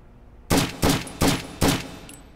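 Four evenly spaced, loud gunshots ring out from a weapon in the tactical shooter Red Sabre, each a sharp close crack with a short tail, followed by quiet.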